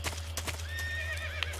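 Game horse from Metal Gear Solid 3 gives a drawn-out neigh with wavering pitch over a few quick hoof clip-clops, close and moderately loud, above a steady low game hum.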